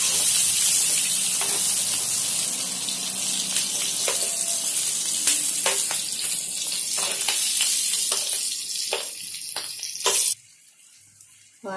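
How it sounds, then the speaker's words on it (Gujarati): Green chillies stuffed with masala fry in a pan with a loud, dense, continuous sizzle and occasional stirring clicks, close up, before the sound cuts off abruptly near the end. "મસાલો છે એ થોડો ક્રિસ્પી થઈ જાય એ રીતના તળશું આપણે."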